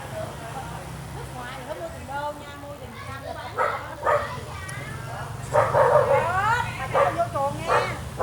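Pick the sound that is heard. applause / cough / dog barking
dog barking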